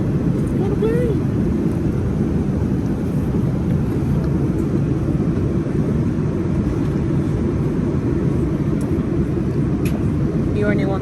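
Continuous broadband roar of an airliner cabin in flight on an Air Canada flight from the UK to Canada, steady and fairly loud throughout, with faint voices beneath it.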